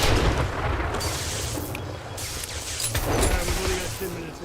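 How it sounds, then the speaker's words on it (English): A grenade blast in the survival game 7 Days To Die, a heavy low boom with rumbling aftermath, followed by further muffled thuds amid game noise, with a voice speaking over it. "Last grenade."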